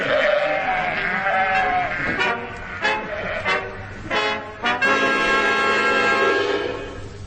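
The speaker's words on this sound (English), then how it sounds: "There's a line of sheep stretching all the way back to Earl's Court." In a radio comedy sketch set in central London, sheep bleat as a comic sound effect. Several loud, close, wavering bleats overlap in quick succession, building into a chorus of a whole flock.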